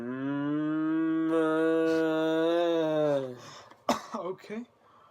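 A person imitates a cow mooing with one long, loud, sustained nasal moo lasting about three seconds, then breaks off into a few short breathy sounds and laughs.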